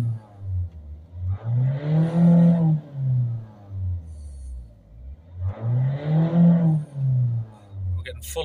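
A Ford Focus C-Max 1.6 TDCi diesel with a DPF ash accumulation fault revs twice, each time climbing from idle to a sustained high-rev drone and falling back, heard up close with a quiet idle between the two rises.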